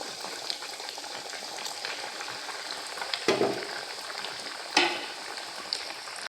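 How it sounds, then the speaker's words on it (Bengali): Pieces of milk (dudh bhaja) deep-fry in hot oil with a continuous bubbling sizzle. A few louder sputters and stirring knocks stand out over the steady hiss. "এই একইভাবে প্রত্যেকটা দুধের পিস আমি ভেজে নেব।"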